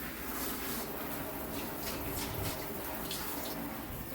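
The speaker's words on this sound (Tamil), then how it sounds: "நான் வந்து தண்ணியை வச்சு எல்லா பக்கமும் நல்லா கழுவி விடுறேன்" Water rinsing a toilet bowl after scrubbing, a continuous close splashing wash with no break, fairly loud and without talk.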